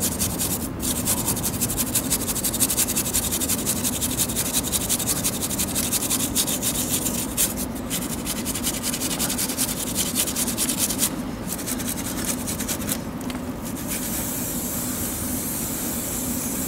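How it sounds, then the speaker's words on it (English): Stiff brush scrubbing grime and old lubricant off a motorbike chain, a steady continuous rubbing and scraping close by, with brief pauses between strokes and no talking. "I'm going to give it a bit of a brush just to agitate the dirt."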